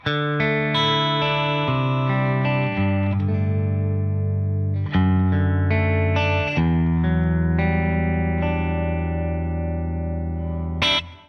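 An electric guitar rings through an amplifier with sustained notes and chords in a fairly clean tone, colored slightly by effects. No talking.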